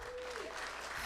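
Scattered clapping from a comedy club crowd, steady and moderate in level, with a faint voice sliding under it briefly.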